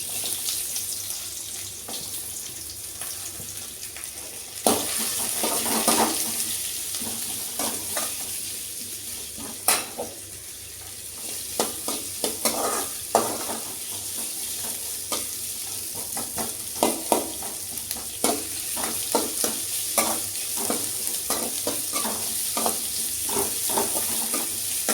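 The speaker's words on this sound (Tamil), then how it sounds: "பூண்டு வந்து கொஞ்சம் லைட்டாக பெரிய வெங்காயத்தை போட்டுடலாம்." Garlic and onion frying in a pan, a steady sizzle with intermittent stirring scrapes and clinks, moderately close and without speech.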